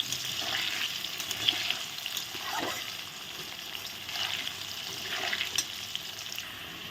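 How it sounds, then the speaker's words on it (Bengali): Potato pieces with salt and turmeric fry in hot oil for a Bengali banana-flower kofta curry, a continuous dense sizzle close by with occasional stirring scrapes and no voices. "হলুদটা দিয়ে এখন ভেজে উঠিয়ে নিতে আলুগুলো"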